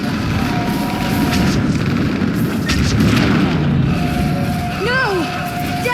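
Artillery fire support explosions in the Mass Effect 3 video game, heard as steady, loud rumbling booms under a battle soundscape, with bright whistling tones and sweeping electronic squeals near the end.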